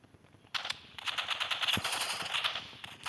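Rapid bursts of pistol fire in a video game, crisp close shots in a fast, rattling sequence that runs steadily for a few seconds after a short quiet start, with no talking over them.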